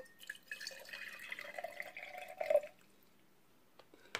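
Water is poured out of a Phalaenopsis orchid pot, a light trickling and dripping stream for a couple of seconds that stops abruptly, followed by near silence with a few faint drips.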